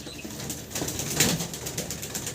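Young fancy pigeons flap their wings in a short burst of rapid fluttering close by, with a faint coo underneath.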